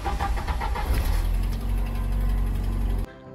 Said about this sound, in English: The engine has a tick from a leak in the manifold or head gasket